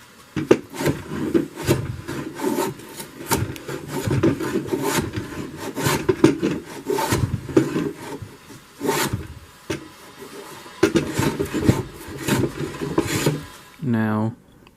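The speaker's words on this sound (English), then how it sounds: "I'm going to do more planing down here than I am down here." A hand plane shaves down a wooden octagonal nunchuck in repeated close rasping strokes, each a scratchy swish of blade on wood, with brief pauses between passes and a short zipping noise at the end.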